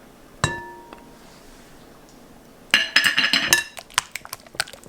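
A spoon or utensil clinks against a bowl while mayonnaise and mustard are mixed, with a single ring early on, then a quick burst of rapid metallic-glassy taps and scattered clinks.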